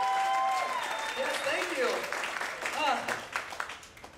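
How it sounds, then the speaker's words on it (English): Theatre audience applauding during a stage musical, clapping under a performer's voice and vocal noises, with a sustained sung or held tone early on, moderately loud. "Round of applause."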